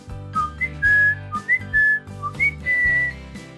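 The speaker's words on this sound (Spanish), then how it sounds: "Me permite silbar." A person whistles a short cheerful tune of quick rising and falling notes, clear and close, over soft background music.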